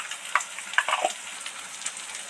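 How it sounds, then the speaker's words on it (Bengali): Oil crackles and sizzles steadily as salted potatoes deep-fry, with a few sharper pops and spatters standing out near the start. "আলুগুলো যাতে তাড়াতাড়ি ভাজা হয়ে যায়"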